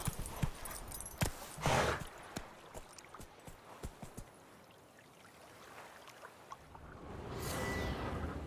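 Hoofbeats of Roach, a horse in The Witcher 3: Wild Hunt, clip-clop in scattered uneven taps, fairly close, over an ambient game backdrop with a swelling wash near the end.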